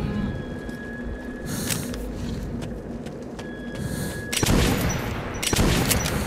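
Gunfire on the Market level of the Metro 2033 video game, with scattered sharp shots and bursts over a low ambient hum, growing into louder, denser volleys near the end.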